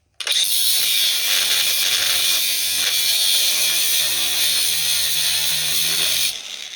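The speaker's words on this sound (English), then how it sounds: "But just electric grinder with a thin, I think this is like a 16th inch blade." An electric grinder with a thin 1/16-inch blade cuts through a corroded battery terminal on a 2008 Pontiac Torrent, giving a close, loud, steady high-pitched whine that holds for about six seconds with no talking.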